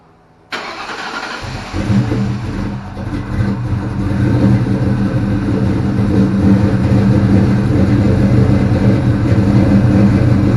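A supercharged 4.6-litre two-valve Ford Mustang GT V8 is started by remote start. The starter catches suddenly after a short quiet moment, then the engine settles into a loud, deep, rumbling idle that runs steadily and up close, with no talk over it.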